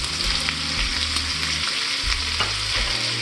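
Chopped yellow onion hits a hot pan on the stove and fries with a loud, continuous sizzle, broken by a few clicks and scrapes of stirring, with no talking.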